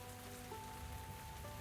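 Steady rain patters down over a soft background hum in the cozy tavern video game Tavern Talk, a continuous close wash of drops with no voices.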